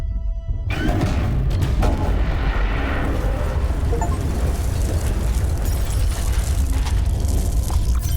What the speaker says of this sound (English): Oh, you mean the big damn explosion that lit up the sky?